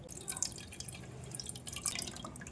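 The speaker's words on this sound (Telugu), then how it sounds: "దీంట్లో డస్ట్ రాకుండా ఇలా వడగట్టేసుకుందాం." Tamarind water being strained drips and trickles into a vessel nearby, with small irregular splashes and drops spread over the stretch, and nobody speaks.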